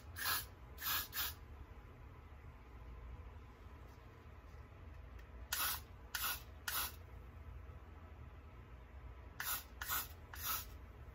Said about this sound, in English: I'm just gonna apply a little bit of the Got to Be Glued spray to this wig.